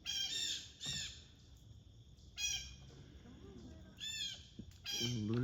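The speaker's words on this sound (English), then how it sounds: "Blue jays are squawking." Blue jays squawk in harsh, repeated bursts in a backyard, several loud calls spaced a second or two apart with quieter chatter between.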